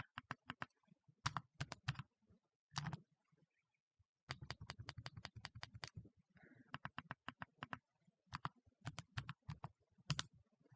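Computer keyboard typing in quick clusters of keystrokes with short pauses, close and clear, no talking.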